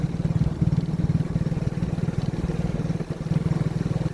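A motorcycle being ridden for practice gives a steady, rhythmic engine drone with pulsing low rumble throughout, close and fairly loud, no talk.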